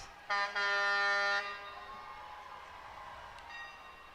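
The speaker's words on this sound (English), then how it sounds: "Hit the horn, ring the bell." A loud horn blasts once during a university homecoming parade, then a bell rings on through crowd noise as the float passes by, fairly close.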